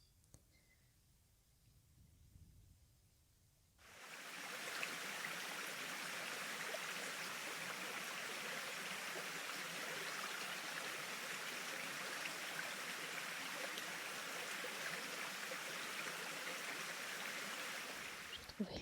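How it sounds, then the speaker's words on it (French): Stream water flowing near the Château de Lordat, starting quietly and then swelling into a steady, full rushing hiss that holds evenly for the rest of the clip, close and continuous. "Je trouvais le son de l'eau très relaxant."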